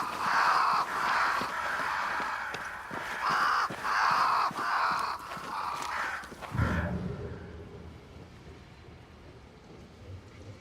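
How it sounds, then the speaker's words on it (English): Crows cawing in Banishers: New Eden, several harsh repeated caws in quick succession for several seconds, loud and near, then giving way to a low rumble and quieter ambience. "Crows."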